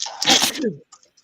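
A single loud, close sneeze from a person, a sharp burst that fades quickly into near silence.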